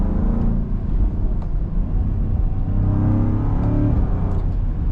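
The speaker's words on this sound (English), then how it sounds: "You can hear some rumbles on that exhaust." V8 exhaust of a 2026 Land Rover Defender 130 while driving, a continuous low engine rumble with a gentle rise in pitch partway through, steady road noise beneath and no talking.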